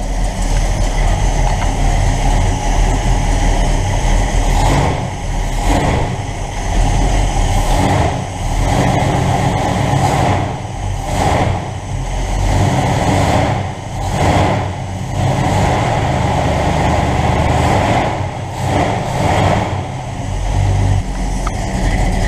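A 1969 Dodge Charger engine idles steadily after a carburetor change, a loud, continuous low rumble with slight periodic dips in level, heard alone with no talking.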